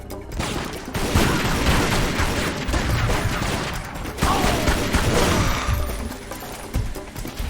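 Rapid bursts of pistol fire in the Tomb Raider Legend video game, loud repeated shots in quick clusters with brief pauses and echoing impacts.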